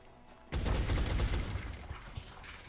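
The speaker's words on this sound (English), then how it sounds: "Take your pistol shots." A burst of gunfire erupts in the turn-based strategy game XCOM: Enemy Within, a sudden loud volley of sharp pistol shots that fades into a ringing, decaying tail.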